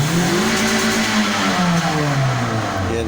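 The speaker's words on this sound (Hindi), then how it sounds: "गाड़ी एक्सीलेटर भी बिल्कुल ओके ले रही है। जितना भी एक्सीलेटर देंगे उतना ही ये मानेगी" A Toyota Corolla's engine revs up under the accelerator after a sensor fault is cleared, its pitch rising, then sagging and climbing again in a loud, close, continuous whine with no talking.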